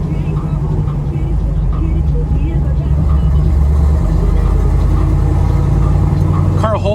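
A 1969 Chevrolet Nova with a fuel-injected 427 engine on a test drive in traffic gives a steady, low engine rumble heard from inside the cabin, with someone talking over it.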